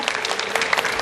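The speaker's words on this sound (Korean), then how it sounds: "환영의 박수" A church congregation gives welcoming applause for visiting guests, a short, dense burst of many hands clapping together in a large room.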